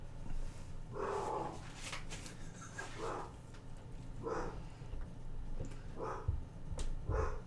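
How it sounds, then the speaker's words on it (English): A puppy barks in short, separated bursts from another room upstairs, muffled and moderately faint, repeating about every second or so over a steady low background hum. "You guys can probably hear my puppy upstairs."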